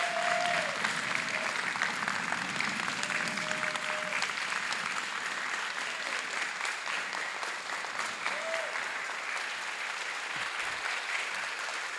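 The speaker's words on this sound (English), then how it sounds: "we can actually give all of our contestants a great big round of applause" A large audience at an international oratorical championship gives the contestants a long, loud round of applause, dense steady clapping that runs the whole twelve seconds with faint crowd murmur beneath it.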